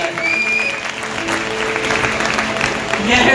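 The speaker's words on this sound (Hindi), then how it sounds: "बजाए खुदा के लिए जोरदार तालियां तो उसके लिए बजाए" Loud applause from a church congregation at a worship centre anniversary service, steady dense clapping with whistles and cheers mixed in, close and continuous.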